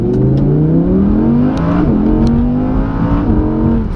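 2017 Audi R8 V10 launching hard from a standstill, its engine note climbing steeply through rapid gear changes with brief dips, loud and close from inside the car.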